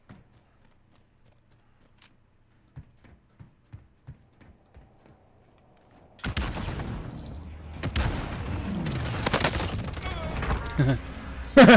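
Call of Duty Warzone gameplay: after a quiet stretch of soft thuds, loud bursts of gunfire and explosions erupt, dense and booming, ending in a sharp blast.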